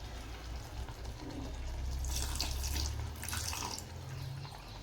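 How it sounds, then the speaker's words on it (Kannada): Water is poured into a pan of brinjal curry, a soft continuous trickle and splash lasting a few seconds at close range, with no talking. "ನಾನೀಗ ಇನ್ನೊಂದು ಸ್ವಲ್ಪ ನೀರು ಹಾಕ್ತೀನಿ."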